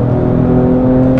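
A Ford Raptor pickup's engine revs briefly, a loud, close, steady mechanical drone with a strong low tonal hum lasting just over a second.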